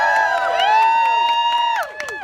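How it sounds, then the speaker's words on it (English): A crowd at an outdoor Freedom To Vote relay send-off rally in Harpers Ferry, West Virginia, whoops and cheers loudly in a short burst, with scattered claps, before it fades. "Can we get some claps right now going on up in here?"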